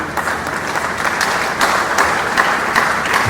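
An audience at a Faculty of Law inaugural lecture claps for the lecturer, with loud, steady applause throughout and a few sharper claps standing out.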